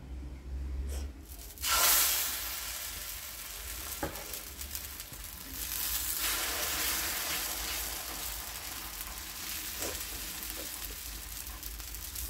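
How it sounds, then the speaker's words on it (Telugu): Moong dal dosa (pesarattu) sizzles on a hot pan, a steady frying hiss that swells after a sharp burst near the start and holds moderately loud, with a few faint clicks and no talk. "పెసర దోశ ఇదిగో వేసాను"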